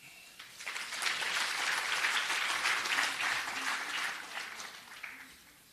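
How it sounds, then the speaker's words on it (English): Sustained applause from an audience, steady clapping that swells quickly and holds for several seconds before tapering off. "Another round of applause"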